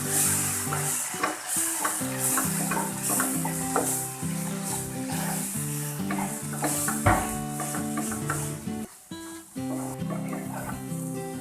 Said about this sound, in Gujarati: લાલ મરચું નાખીશું ધાણા જીરું પાવડર નાખીશું મિક્સ કરી લઈએ